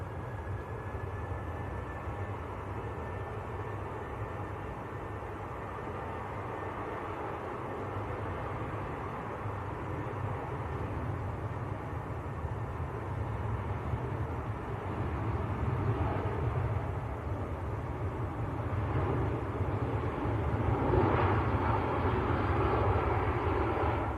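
A Tui airliner departing Manchester Airport: a broad, steady jet engine roar heard from a distance, slowly swelling louder over about twenty seconds with no talking.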